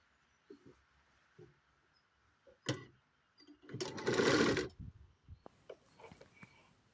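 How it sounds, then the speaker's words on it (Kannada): A sewing machine stitching fabric for a uniform dress, heard in short mechanical clicks and brief whirring bursts, with one louder sustained run of stitching near the middle, close and otherwise quiet. "ಈಗ ಉಲ್ಟಾ ತಿರುಗಿಸಿ ಇನ್ನೊಂದು ಕಡೆಯಿಂದ ಸ್ಟಿಚ್ ಮಾಡ್ತಾಯಿದ್ದೀನಿ"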